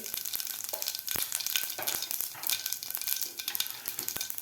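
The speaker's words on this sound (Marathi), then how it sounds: "तेल आपलं गरम झालेलं आहे तर त्यामध्ये घालायचं आपल्याला थोडीशी मोहरी अर्धा चमचा जिरे" Mustard seeds and cumin crackle in hot oil in a pan, making a dense, continuous sizzle with sharp pops scattered throughout, close and fairly loud.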